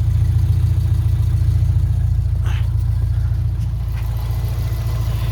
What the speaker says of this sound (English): The engine is running good.